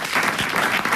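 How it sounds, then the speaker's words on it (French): Studio audience applause on a French TV show, dense and continuous clapping at full volume for the whole moment. "Et on t'applaudit"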